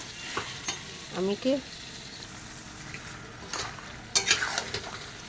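Goat meat being sautéed in a pot as it releases its juices: quiet, steady sizzling with a few stirring scrapes and light clinks, plus brief tonal squeaks early on.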